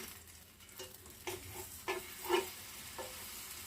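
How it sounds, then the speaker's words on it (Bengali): A sandwich toasts on a hot grill pan with a soft, steady sizzle. A few light scraping and tapping touches come from handling the bread. No one speaks. "গ্রিল প্যানের ওপর এটা সেঁকতে হবে এইভাবে।"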